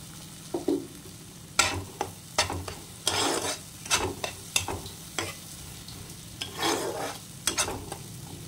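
Masala for Bengali doi rui sizzling and frying in a pan, with repeated scraping stir strokes of a spatula in an irregular rhythm, close and moderately loud, no talking.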